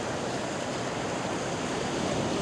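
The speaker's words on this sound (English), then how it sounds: "Got some waves coming through now" Ocean waves roll onto a beach at sunrise, a steady broadband wash of surf that holds at an even level throughout, with no voices.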